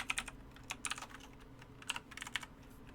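Quiet clusters of computer keyboard keystrokes come in short bursts as code is typed, with brief pauses between bursts and no talk.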